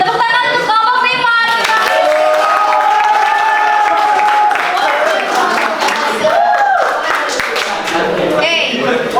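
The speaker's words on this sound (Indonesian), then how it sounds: "Oke, tepuk tangan untuk kelompok 5" A classroom of students applauding for a group after their presentation, dense continuous clapping with some cheering, loud and close, with a teacher's voice talking over it.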